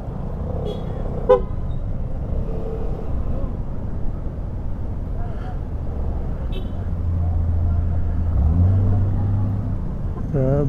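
Busy road traffic in a city, with a continuous rumble of cars and buses and several car horns tooting at intervals, some short and some longer, heard from within the traffic. No one speaks during the sound.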